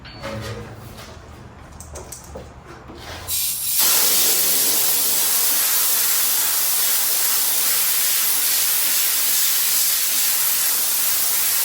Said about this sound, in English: spray cold air on it, cool it down real fast,